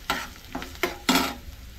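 Onion going into hot oil in a pan for a chana dal bhaji, giving four short bursts of sizzle and stirring. Each burst is loud and close, and no one speaks.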